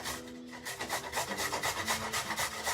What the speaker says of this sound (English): I'm just going to grate them into a bowl